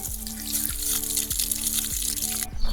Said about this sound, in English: the hose should be full of water now. So let's connect it here. Yeah, it's flowing.